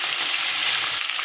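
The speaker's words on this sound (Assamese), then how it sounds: "মাছ প্ৰায় আধা হ'ল আৰু আধা ভাজি আছে" Fish fries in hot oil, giving a close, loud, continuous sizzle with a faint crackle over a short stretch.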